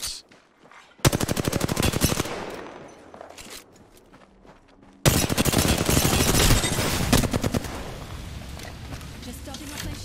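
Rapid bursts of 301 rifle fire in an Apex Legends-style battle royale match, two loud sustained volleys of automatic shots close up, with a voice speaking over the action.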